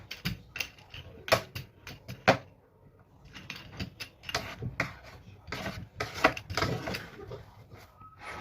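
Dough for a flour-and-sugar sweet rolled out with a wooden rolling pin, close irregular knocks and rubbing rolls with short pauses, some brief louder thuds.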